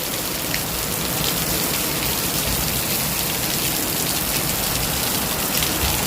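Steady rain pours down across a hard surface, a dense continuous hiss with scattered drop patter, no voices.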